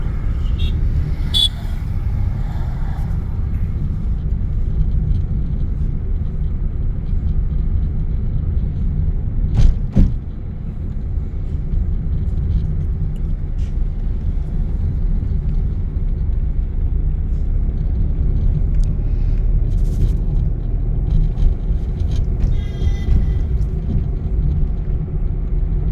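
A car during a driving lesson, its engine rumbling steadily at low pitch through the cabin with road noise and one brief bump midway, an instructor's voice occasionally audible over it.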